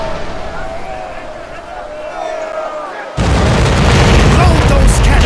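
A sailing ship's cannons fire a broadside in the naval battles of Commander: Conquest of the Americas, a sudden loud booming roar that cuts in after a quieter stretch and rumbles on, with a voice giving orders just before.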